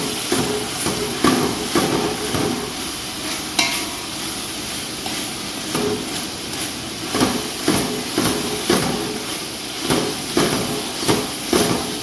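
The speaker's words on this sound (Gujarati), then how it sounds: "મેશરથી આપણે થોડુંક મેશ કરી દઈશું" Soft tomatoes being mashed with a masher in a pan, a steady series of rhythmic soft thuds and squelches over a light sizzle, repeating about once a second without talk.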